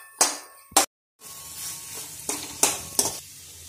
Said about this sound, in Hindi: इसे अच्छी तरह से मिक्स कर लेते हैं।